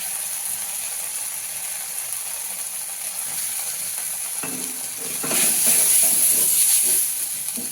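Pumpkin leaf paste hits hot oil in a pan, a soft steady frying hiss that swells louder and brighter near the end as the paste is stirred in, with no talking.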